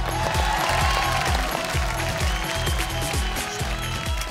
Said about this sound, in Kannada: ಜೋಗುಮಾರ್ ಸ್ವಾಮಿ ತಂಡಕ್ಕೆ ಮತ್ತೊಂದ್ಸಲಿ ಜೋರಾಗಿ ಚಪ್ಪಾಳೆ ಹೊಡೆದ ಕಲ್ಸ್ಕೋಣ